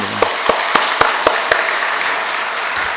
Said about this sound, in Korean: 우리 하나님께 영광의 박수 한번 돌릴까요?